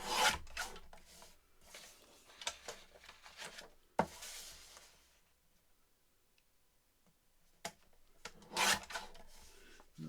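Intermittent knocks, rattles and rubbing scrapes from a drying rack being bumped during crafting work, in short clustered bursts separated by quiet stretches, fairly close and moderately loud, with no voices.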